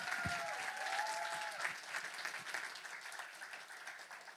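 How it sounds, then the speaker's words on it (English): An audience at a university PhD thesis presentation final claps in a steady, fairly faint round of applause that slowly tapers, with a brief voice at the start. "Another round of applause."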